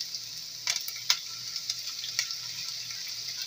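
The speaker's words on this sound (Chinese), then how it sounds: "我就會用大火加入60ml 嘅麻油，油熱。 爆香蒜蓉" Minced garlic and ginger fry over high heat in 60 ml of hot sesame oil, a faint steady sizzle scattered with small crackling pops.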